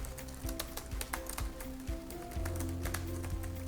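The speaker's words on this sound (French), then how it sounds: "ils appuient tellement fort que ça fait un bruit qui finit par être un peu agaçant" Hard, forceful typing on a wireless slim keyboard, a fast run of loud, close clacking keystrokes with a steady low hum underneath.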